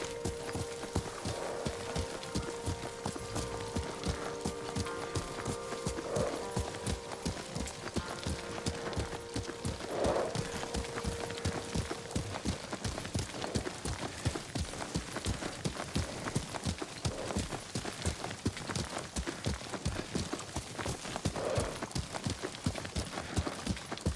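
In the video game Ghost of Tsushima, steady clip-clop of horse hooves at a riding pace runs throughout, with occasional brief tonal calls rising above the rhythmic footfalls.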